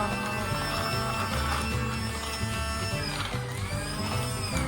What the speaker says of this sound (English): Do you like the sound of this vacuum?